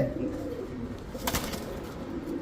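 Iranian tumbler pigeons coo softly in a loft, low murmuring calls under a hum of background noise, with a brief rustle midway.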